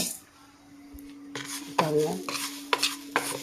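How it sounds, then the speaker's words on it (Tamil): Urad dal dry roasting in a pan, stirred with a utensil: soft scraping and scattered clinks against the metal pan over a faint steady hum, with a few sharper taps near the end. "இப்போ வந்து உளுந்து வறுக்க ஆரம்பிச்சிடலாம் இது நல்ல வாசனை வரும்போது நம்ம பண்ணிடலாம்"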